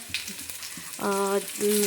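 Finely chopped onion sizzles in a kadai on a gas stove while it is stirred. The frying hiss is soft and bursts out louder in two bouts, with a few faint scrapes and handling sounds in the quieter moments.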